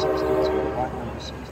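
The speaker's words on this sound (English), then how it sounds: "rang the bell, and then off this tram will depart" Blackpool illuminated heritage tram at departure, a sustained tonal horn or bell-like note heard close over low rumbling running noise, with faint brief ringing touches later.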